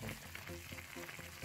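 Pork ribs simmer in red wine in a pan, giving a soft, close, steady bubbling sizzle for a brief moment.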